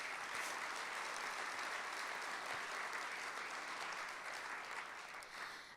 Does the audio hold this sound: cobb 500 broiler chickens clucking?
no